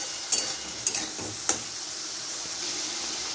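Ginger-garlic paste and green chili paste fry in a pan for a Bihari-style chicken curry, a soft, steady sizzle with a few sharp spoon scrapes and knocks against the pan.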